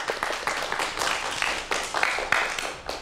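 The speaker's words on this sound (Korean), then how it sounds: "박수 다시 한번 부탁드릴게요." Scattered audience clapping for a lecturer at a Korean science talk on lifespan and aging, moderate and somewhat sparse, with irregular claps over a steady broadband wash for about three seconds.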